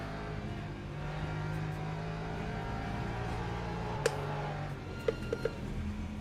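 Porsche race car in the Le Mans Ultimate racing game, a steady engine drone with a sustained tone, a few sharp clicks and knocks as it runs off the track, no voices.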